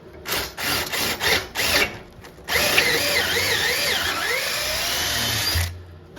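A power tool drives coach bolts into timber: several short, close bursts of whirring, then a long, steady, straining whine as a bolt is run home before it stops.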